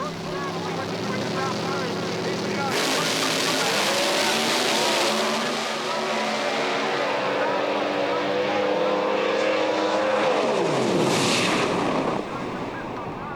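Drag racing cars launch hard off the start line, a loud, dense engine roar with rising and falling pitch sweeps as they pull away, then another sharp burst near the end, under a commentator's talk.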